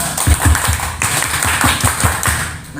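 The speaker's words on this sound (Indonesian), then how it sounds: "Mari kita kasih tepuk pramuka" A room full of people beats out the rhythmic Indonesian scout clap (tepuk pramuka) at a book discussion event, a steady run of close, punchy claps and thumps at an even pulse with no talk over it.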